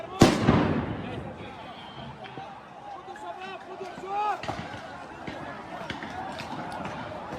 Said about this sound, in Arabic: قوات الاحتلال تطلق عشرات من قنابل الصوت والغاز والرصاص المطاطي